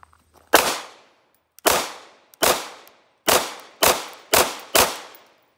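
Sig Sauer P320 9mm pistol fired at an outdoor range from seven yards: seven loud, sharp single shots, each with a quick decaying ring, spaced unevenly and closer together toward the end, with no talking.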